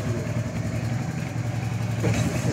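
A Suzuki Intruder motorcycle engine runs just after a cold start, a steady close idle rumble with a slight blip near the end.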